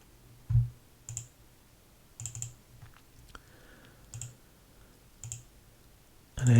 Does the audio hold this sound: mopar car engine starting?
no